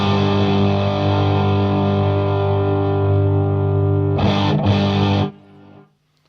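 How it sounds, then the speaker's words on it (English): Electric guitar through the Strymon Sunset overdrive's A side treble booster with every control at full, a sustained bright, distorted chord ringing loud and alone, briefly re-struck near the end before cutting off into a short fading tail. "the A side has a treble booster type thing."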